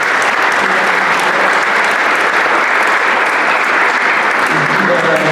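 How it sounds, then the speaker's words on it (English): Sustained, loud applause fills a hall of fame induction ceremony for a university sports club, dense clapping holding steady throughout with no pause. "So I think that's a round of applause"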